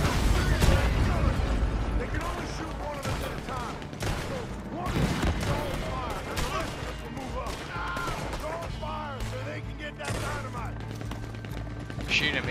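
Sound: gunfire in video game Red Dead Redemption 2 Online

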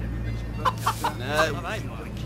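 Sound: tame chicken clucking

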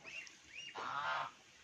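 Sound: geese honking

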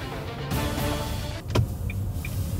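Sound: car driving

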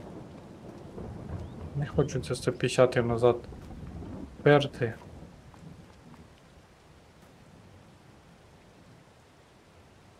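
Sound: rain and thunder in Farming Simulator 2022, video game

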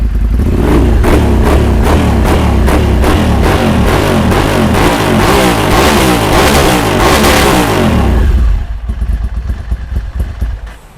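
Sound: motorcycle engine revving

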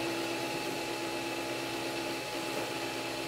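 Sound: Da Vinci AiO 3D printer head auto-feeding filament

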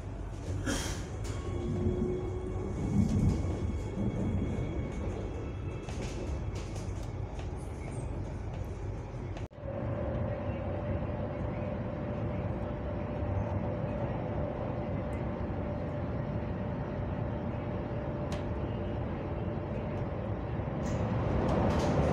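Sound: Delhi metro train running during journey

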